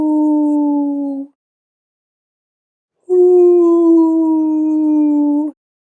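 A voice imitates whale song with two long, low, wavering hoots, the second longer, separated by a brief silence.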